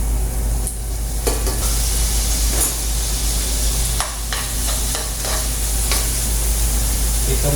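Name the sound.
sautéing tuna in a pan for tuna pasta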